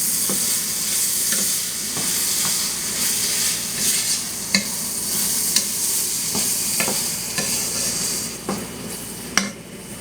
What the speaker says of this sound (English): Don't stop mixing it until it just dissolves completely.